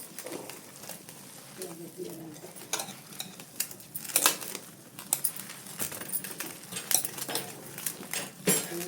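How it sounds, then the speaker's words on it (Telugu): Fish and eggs are mixed in a bowl for fish cutlets, producing repeated scraping and clinking of a utensil against the bowl in an uneven rhythm, with a few soft background noises. "ఎగ్స్ వేసి బాగా కలుపుకోవాలి"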